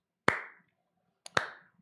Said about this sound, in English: we got to do a little bit of a Captain Morgan slow clap on that one